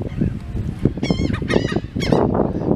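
Seagull on the Ocean City boardwalk, loud close squawks and rising, wavering cries repeating over a busy background of crowd chatter.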